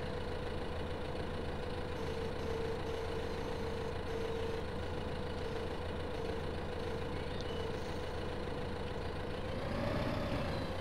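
Steady tractor engine drone from Farming Simulator 15, a continuous low hum with a sustained tonal whine that holds evenly throughout and swells slightly near the end, with no talk over it.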